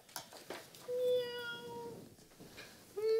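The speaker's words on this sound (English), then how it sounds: "There's kitty cat." A cat meows a few times in a video game, with clear, fairly close calls and short gaps between them.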